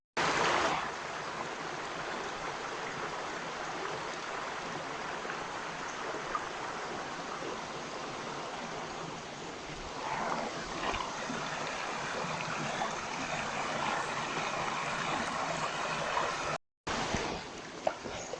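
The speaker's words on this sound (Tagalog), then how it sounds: "Tawid sa ilog." River water rushes steadily during a river crossing, a continuous broadband wash heard up close with no voices, briefly cut out near the end.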